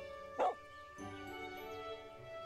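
A single short bark from a dog playing fetch in the farming life-sim game Everdream Valley, quiet over steady tonal game music.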